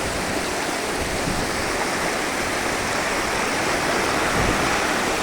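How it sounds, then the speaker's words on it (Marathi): A river near Nashik flows at full capacity, a loud, steady broadband rush of water like a waterfall, continuous throughout with no voices. "नाशिकमधील जवळपास सर्व प्रकारचे ज्या छोट्या मोठ्या नद्या आहेत ना, तर ह्या एकदम अशाच प्रकारच्या एकदम पूर्णपणे क्षमतेने वाहत आहेत."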